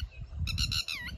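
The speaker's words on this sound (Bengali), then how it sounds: "টিট্টি বলি আমরা এই পাখিটাকে। খুব সুন্দর একটি আওয়াজ পাখিটার।" A lapwing calls over a cucumber field, giving a few quick, sharp, squawking notes close by above a low, murmuring background.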